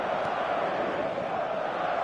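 A stadium crowd in a football video game roars as one dense, continuous wash of cheering and chanting at a constant loud level, with no breaks.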